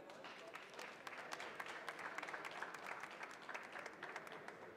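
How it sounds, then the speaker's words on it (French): A crowd at a public cup-tasters coffee competition applauds steadily, a quiet, distant but continuous rattle of many hands clapping without a break. "on les applaudit"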